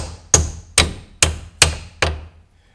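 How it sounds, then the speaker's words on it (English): Five sharp, evenly spaced hammer blows strike a bolt to drive it out of a car's CV shaft assembly, each metallic hit ringing briefly before fading, close and loud with no talking. "And then you just tap this bolt out from this side."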